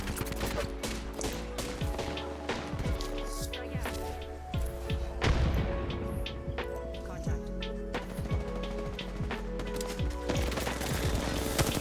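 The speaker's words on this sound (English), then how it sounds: "I got hit with a couple of those grenades and a couple of shots" Rapid bursts of gunfire and heavy thuds from grenade blasts in the Apex Legends battle royale shooter, dense and continuous over a bed of game music and effects, with someone talking throughout.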